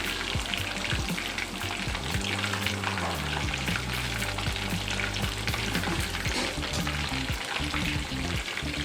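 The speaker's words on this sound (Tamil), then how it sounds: "லெக் ஃப்ரைக்கு நம்ம நல்லா ஆயில் கொடுக்கணும். அப்போ தான் ஆயில் ஃபுல்லாக முங்குற மாதிரி, பீஸ் முங்குற மாதிரி ஆயில் இருந்தால் தான் நல்லா ஃப்ரை ஆகி வரும்." Chicken leg pieces deep fry fully submerged in plenty of hot oil, giving a loud, continuous crackling sizzle with bursts of bubbling and occasional stirring, and no talking over it.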